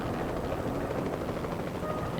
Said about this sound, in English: I gotta go in here past the damn helicopter